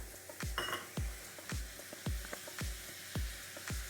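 Prawn and pumpkin in a village-style Bengali pan with a little water added, a soft bubbling sizzle broken by regular spatula taps against the pan about every half second, close but quiet.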